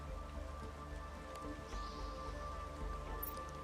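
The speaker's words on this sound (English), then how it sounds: "Oh, it's raining." Steady rain patters in a base-building video game, a soft, continuous hiss of falling drops beneath a low humming ambient drone.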